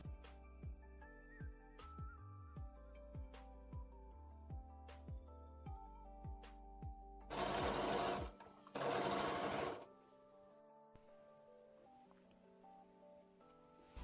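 A sewing machine stitches trouser fabric along a fly seam, running in a steady rhythmic whir of repeated needle strokes, then two louder fast bursts before slowing to quiet, close up with no talking.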